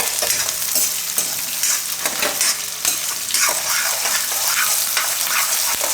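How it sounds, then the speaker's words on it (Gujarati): Green peas tossed into hot oil with onions for ragi upma hiss and sizzle steadily up close, with light stirring scrapes and crackles running throughout and no voices. "થોડીક વાર ડુંગળી ફેરવીને એમાં વટાણા નાખી દેવું."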